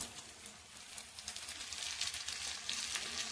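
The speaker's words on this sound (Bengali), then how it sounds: "দিয়ে দেবো চেরা কাঁচা লঙ্কা" Slit green chillies drop into a pan of frying chilli chicken, giving a steady, fairly quiet sizzle with crackling spits that swell slightly louder toward the end.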